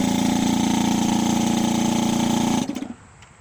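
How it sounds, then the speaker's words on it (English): An electric vacuum pump for a hot rod muscle car's power brake booster drones steadily at close range with a loud, even hum, then cuts off near the end and winds down into quiet. "Now I'm going to run the pump again, and you tell me if that muffler helps."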